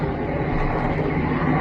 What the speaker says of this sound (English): a helicopter pursuing a UFO